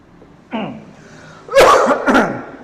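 A man coughs indoors: a brief throat sound, then two close, sharp coughs that trail off.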